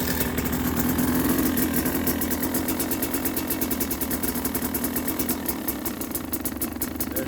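A 2020 KTM 300 XC TPI two-stroke dirt bike idles after a cold start at -2°C, a loud close, steady rapid pulsing putter that runs unbroken and sounds slightly uneven.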